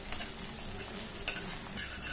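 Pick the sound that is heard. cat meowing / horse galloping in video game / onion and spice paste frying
onion and spice paste frying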